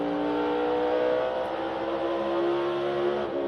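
NASCAR Cup race car at Bristol under throttle, a loud sustained engine drone with steady harmonic tones and slight pitch shifts as the driver gets back on the gas, no talk.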